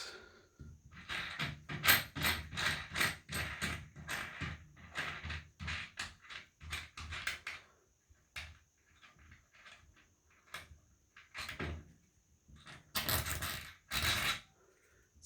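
Nuts and bolts on a glass floating shelf being tightened, heard as close, quick metallic clicks and ratcheting taps in rapid runs with short pauses between them.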